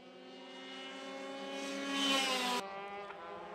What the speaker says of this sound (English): These go-karts are very light and very fast.